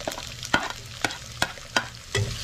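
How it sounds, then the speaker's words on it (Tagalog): Onions sautéing for buffalo meat menudo make a soft sizzle in a pan under regular scraping stirs, about five strokes in quick, even succession. "Lalagyan na natin ng sibuyas."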